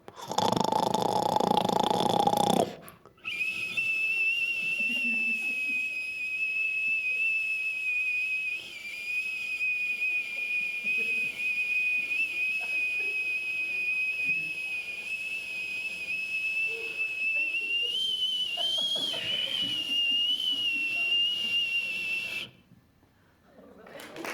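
A voice imitates a whistling, teapot-like snore, a long steady high whistle held for about twenty seconds over a breathy hiss, loud and close, with a short burst of voice before it.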